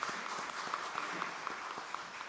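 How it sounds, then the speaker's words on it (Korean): A church congregation applauds at an early-morning monthly prayer service after a choir's hymn. The clapping is soft, dense and steady, with a few sharper claps on top, lasting about two seconds. "우리 모두 격려의 박수 하겠습니다."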